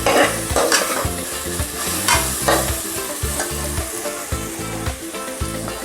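Kheema egg pulav cooks on a low flame, giving a steady sizzle with repeated scraping stir strokes of a spoon against the pan, close and continuous, with no one talking.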